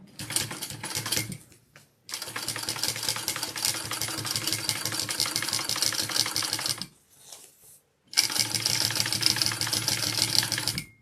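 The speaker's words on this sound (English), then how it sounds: "we're going to do the first top stitch with it up this way along the lining piece" A sewing machine top-stitches a backpack lining in two long steady runs of rapid needle strokes, pausing briefly near the start and again toward the end before resuming, loud and close with no talking.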